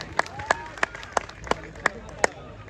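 Audience members at a live stage show clap in a steady rhythm, about three claps a second, with crisp but fairly faint claps over a quiet room.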